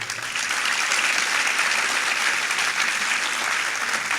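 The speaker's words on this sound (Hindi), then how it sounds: "मेरे अंत से पहले ताली बजा लो" Sustained audience applause at a public speech event in Sirsa, dense and steady throughout, a large crowd clapping continuously without pause.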